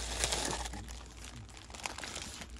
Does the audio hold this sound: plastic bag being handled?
yes